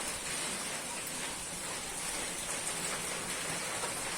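Steady, dense hiss of heavy rain falling on surfaces, continuous and unbroken, with no voices or other sounds standing out.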